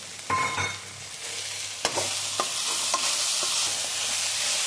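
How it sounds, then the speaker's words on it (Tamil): Onion and radish sautéing in a pan for a chickpea radish curry, a loud steady close sizzle broken by a few sharp spoon scrapes and taps, with no voices. "வெங்காயம் வதங்கினோடே இங்கே முள்ளங்கியும் போட்டு வதக்கிக்கலாம்"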